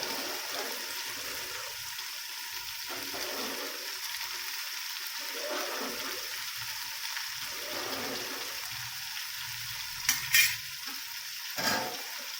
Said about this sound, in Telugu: ఒక్కసారి రైస్ను బాగా కలపాలి